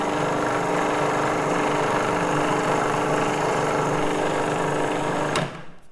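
A Magimix food processor blends homemade tahini with a loud, steady motor whir and churning hum that runs continuously, then cuts off abruptly near the end.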